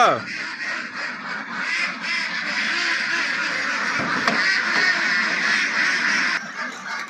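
A dense chorus of many ducks quacking together on a duck farm, loud and continuous, with a few voices and other farm noise mixed in the background.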